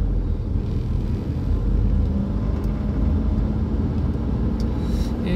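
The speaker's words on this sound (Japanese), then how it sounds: "車、トラック結構走ってます" Cars and trucks pass along the Kumagaya bypass on Route 17, a loud continuous road rumble and tyre whir with no pauses, close to the roadside.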